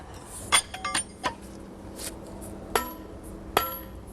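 A hammer strikes steel plug and feathers set into drilled holes in stone, giving sharp metallic clinks at irregular intervals, some ringing brightly, with quiet pauses between blows outdoors.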